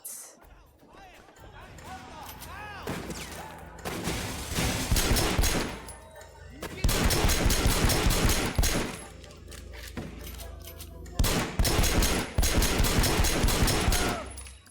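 Bursts of automatic gunfire from the open-world action game Sleeping Dogs, loud rapid volleys stopping and restarting in several long stretches over a steady game soundtrack.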